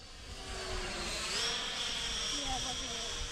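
A repainted remote-control model plane flies and hovers nearby with a thin, steady motor whine that shifts in pitch, under faint outdoor ambience.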